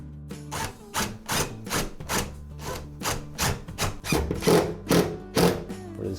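Long screws driven into a wooden floating shelf for a bathroom, a run of regular rasping turns with short pauses between them, close and clear with no talk.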